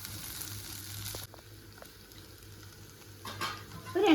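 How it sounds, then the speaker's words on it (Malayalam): Gentle stirring of a potato and egg mixture in a frying pan, a low sizzle with a few soft utensil taps and a louder scrape near the end, close by with no talk. "നല്ല ഒന്നിങ്ങനെ ഇളക്കി കൊടുത്താൽ മതി."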